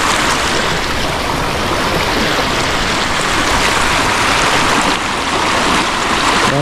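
Overflowing floodwater rushing hard past a flooded village, a loud, steady broadband roar of churning water that stays constant throughout with no voices.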